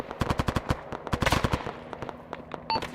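Heavy automatic gunfire in the Arma 3 military video game: rapid bursts of sharp, close shots crackling in quick rhythm, with a few scattered reports trailing off after.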